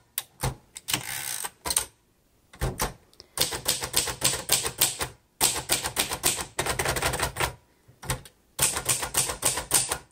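A 1956 pink Royal Quiet De Luxe manual typewriter typing in quick, close bursts of sharp key strikes, separated by short pauses, with the odd bell ding and carriage movement.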